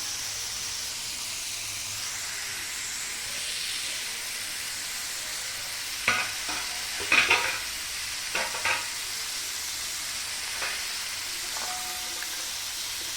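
Green chilies, tomato, coriander and garlic fry in a pan for a tangy chili-tomato mash, giving a steady soft sizzle and hiss with a few brief clatters of stirring midway, no voices.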